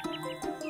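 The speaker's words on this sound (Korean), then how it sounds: "새들이 포르르 날아와 인사했어요." Small birds chirping nearby in a quick series of bright, short tweets and trills, clear and alone.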